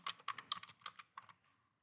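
Quick typing on a computer keyboard while entering a spreadsheet formula: a short run of about a dozen crisp, close keystrokes in an uneven rhythm, quiet and alone.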